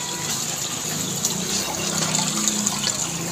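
Water is poured into an ice cream mixer, a steady gushing, splashing flow that stays fairly loud and even throughout, with no voices.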